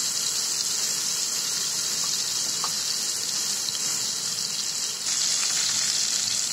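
Chettinad fish frying in a little oil in a nonstick kadai, a steady, even hiss of oil running the whole time with a brief shift in texture near the end, no voices.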